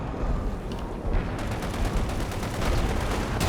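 Artillery firing in the WWII strategy game Company of Heroes 2: a dense, continuous roar of booming shots and crackling gunfire, loud and unbroken, with sharper bursts toward the end and no talk.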